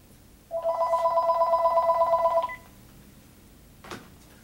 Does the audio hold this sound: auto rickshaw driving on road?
no